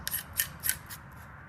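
A wrench or tool rasps in three or four quick scraping strokes, close and fairly quiet, while a rifle barrel nut is tightened during installation of a 15-inch handguard.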